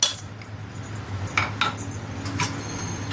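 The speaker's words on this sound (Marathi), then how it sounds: "आता याने उलटाने हलवायचं आहे" Spatula scraping and clinking against a pot while semolina kuradai dough is stirred, a few short metallic scrapes over a steady low kitchen hum, close and moderately loud.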